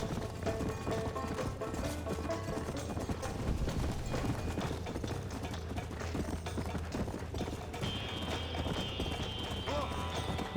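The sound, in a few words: horse galloping in video game Red Dead Redemption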